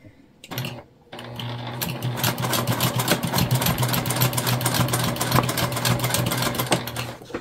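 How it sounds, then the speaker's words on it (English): A sewing machine stitches the seam of a fabric backpack, starting after a brief pause and then running in a fast, close, rhythmic mechanical rattle that holds steady to the end. "And then we're stitching at the seam allowance that's given."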